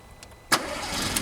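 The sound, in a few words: Vauxhall Corsa engine starting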